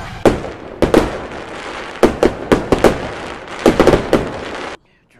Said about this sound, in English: we'll miss the fireworks